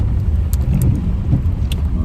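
Cars crawling back and forth along a torn-up, snow-covered road, a steady close engine-and-tire rumble with faint scattered clicks and knocks over it.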